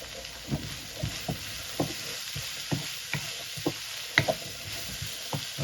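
Oil sizzles steadily in a pan as spices and onions temper for squid curry, while a utensil stirs and scrapes, giving sharp clacks every half second or so.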